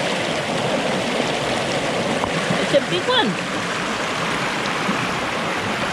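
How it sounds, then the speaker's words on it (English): Stream water babbling and splashing over rocks, a steady broad rush that continues throughout, with someone speaking briefly over it and a few small splashes near the middle. "It's babbling over the rocks."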